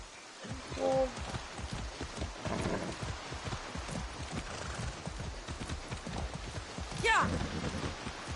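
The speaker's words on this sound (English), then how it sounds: "riding up a mountain on a horse in the pouring rain" Pouring rain in Far Cry 6 during a mountain horse ride, a steady dense hiss throughout with hoof clops and a short whinny mixed in, and a voice speaking over part of it.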